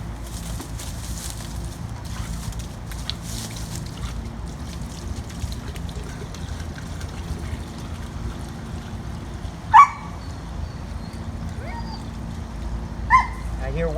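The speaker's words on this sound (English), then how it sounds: "I hear water going into the big tank there" Steady, soft rush of water pouring into a large pool tank during a pool pump repair, a continuous even wash throughout with a couple of brief voices near the end.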